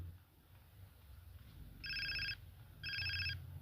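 Phone ringing in GTA San Andreas, two short bursts of a trilling electronic ring about a second apart, moderately loud over a low in-game rumble.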